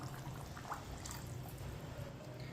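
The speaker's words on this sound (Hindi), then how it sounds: "इसमें पानी डाल देंगे।" Water poured from a glass into a pot of rice and chickpeas for chana chawal, a steady close splashing pour running throughout with no talk.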